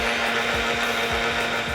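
A blender making a banana and mango smoothie whirs steadily at close range, a constant high buzzing drone with a faint rhythmic churning underneath.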